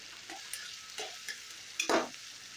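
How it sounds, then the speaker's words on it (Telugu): Prawns and tomato frying in a pan for a Guntur-style prawn curry, with a soft sizzle and a few scraping stirs of a spoon, ending in a louder scrape near the end, close by and without talk. "ఇప్పుడు రొయ్యలు వేయాలి రొయ్యలు వేస్తున్నాను ఇప్పుడు టమాటా కూడా వేస్తున్నానండి బాగా మిక్స్ చేసుకోవాలి"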